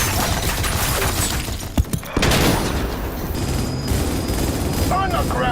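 Heavy gunfire rakes a building in Cyberpunk 2077, a dense, loud barrage of shots with shattering debris and booming impacts, a brief lull near the middle before the firing resumes.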